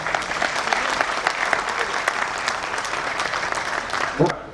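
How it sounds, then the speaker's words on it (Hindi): An audience at a Yuva Rajputana Sangathan program claps steadily to welcome the chief guest, a dense continuous roar of hand claps held at even loudness throughout. "आप सभी ताली बजाकर उनका स्वागत करें।"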